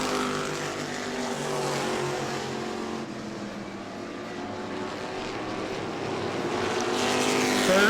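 E-Mod race cars race at New Smyrna, their engines roaring and whining together at a distance in a loud, continuous drone that swells toward the end as the pack draws closer.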